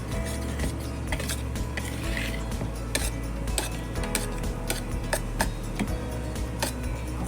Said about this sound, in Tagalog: Kailangan na natin mag-mix. Pero dahan-dahan lang ang halo.